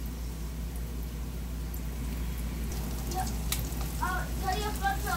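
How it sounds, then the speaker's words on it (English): Chicken wings coated in flour seasoned with paprika, salt, black pepper and ginger powder fry in a pan over medium heat, giving a steady close sizzle and crackle, with a voice speaking briefly near the end. "I'm not frying this chicken on high heat"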